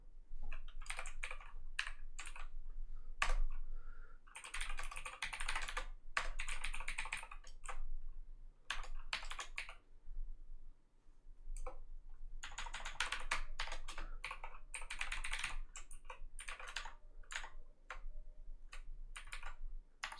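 Close, steady typing on a computer keyboard, with bursts of rapid keystrokes broken by short pauses and no talking.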